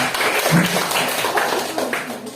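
A classroom of students applauds together, a steady, dense wash of clapping that holds at an even level for a couple of seconds with no clear talk over it.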